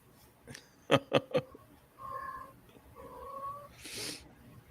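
Cats in heat caterwaul and meow: three sharp, loud yowls close together, then two longer drawn-out wails with a brief noisy burst between them.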